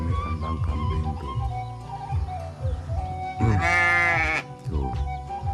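Goats bleat repeatedly from a village goat pen on a countryside morning, several close, wavering calls overlapping, with one louder, higher drawn-out bleat near the middle.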